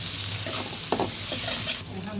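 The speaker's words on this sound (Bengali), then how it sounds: "রসুন কুচি দিয়ে দিচ্ছি, তেলেতে দেওয়ার কথা ছিল, ভুলে গেছিলাম।" Chopped garlic sizzles steadily in hot frying oil while a few brief stirring scrapes cut through, close and fairly loud throughout.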